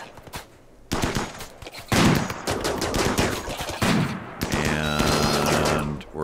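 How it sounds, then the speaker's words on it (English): Assault rifle fire from the RimWorld video game, sharp repeated bursts of synthetic gunshots in quick volleys, loud and close, with other game effects and a tonal sweep layered in toward the end. "If we were to click on, say, Klaus with his assault rifle and click that, you'll see we're in range now."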